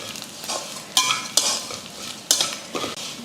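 A fried mixture with turmeric, chili powder and salt being stirred in a pan, sharp metallic scrapes of a spoon against the pan recurring over a soft sizzle.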